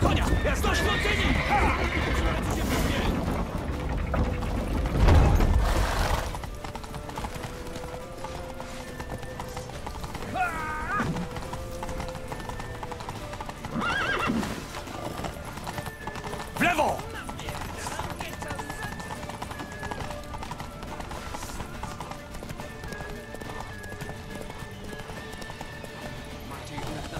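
Horse hooves pound in a galloping rhythm during a Witcher 3 escape sequence, loud at first and then continuing under battle noise and voices speaking, with occasional clanks and a whinny.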